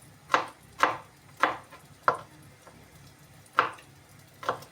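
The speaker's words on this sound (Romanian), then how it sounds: "Dar să tai usturoiul." Garlic being chopped with a knife on a wooden board for a pork rib dish, six crisp, separate thwacks spaced roughly half a second to a second apart, close and clear against a quiet background.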